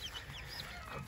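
Hen clucking near a chicken coop, short scattered clucks over a busy outdoor background, brief and moderately close.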